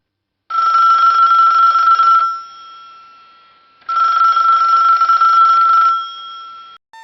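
A telephone rings loudly in two long electronic bursts separated by a pause, each ringing tone sustained and bright, with no talking.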